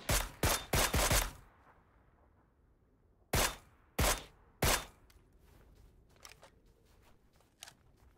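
Gunfire exchanged in PUBG on Xbox One X: a rapid burst of four or five sharp shots, a pause, then three more spaced shots, followed by fainter distant pops.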